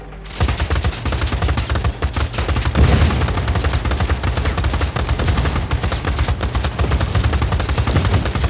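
Sustained gunfire from the Just Cause 4 video game, loud and dense, with rapid overlapping shots rolling on without pause for the whole stretch and no talking.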